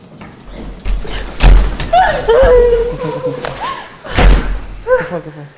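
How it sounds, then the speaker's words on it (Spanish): Heavy shelf shifting with loud, close thuds and slams, two sharp impacts standing out while people talk in Spanish over them. "¿Qué fue? El estante. ¿Se movió? Sí, fuerte."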